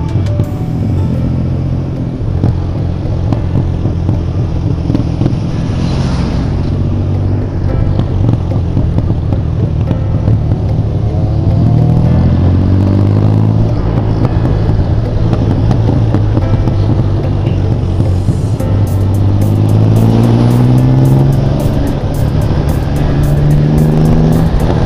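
A vehicle engine revs hard as the throttle is twisted, a loud, close, continuous rumble with rising and falling pitch sweeps through the middle and end, heard alone without talk.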